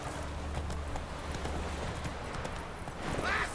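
Horse hooves clip-clop at a quick, steady gallop in The Witcher 3 video game, moderately loud and continuous through the short stretch.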